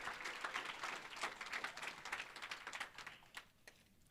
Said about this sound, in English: let's give another round of applause to all 8 of the presenters today.